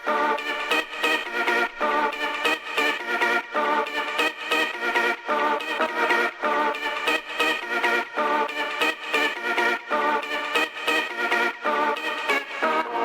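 Loud synth melody from a techno drop, overdriven and dense, with a continuous rhythmic pulse of chopped chords over thirteen seconds and no talking.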